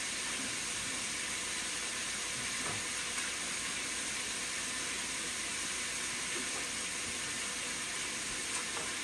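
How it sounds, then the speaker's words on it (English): Water runs steadily from a tap over hands being washed in a continuous hiss, with faint splashing and clinks mixed in, and no voices. "I gotta wash my hands"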